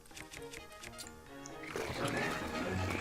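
A horse from The Legend of Zelda: Tears of the Kingdom snorts and whinnies amid other game sounds. Short, choppy bursts at first give way to a louder, rougher wash of noise.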